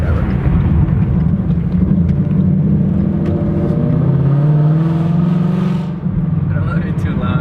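A 2017 Ford Mustang engine rumbles and revs up and down up close, loud and continuous, with voices talking over it.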